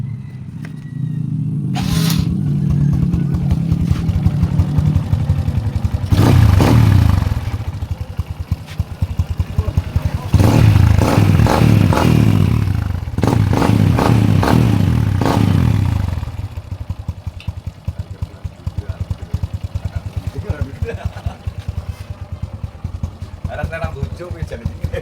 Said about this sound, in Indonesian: sekarang kita hidupkan sepeda motornya teman ya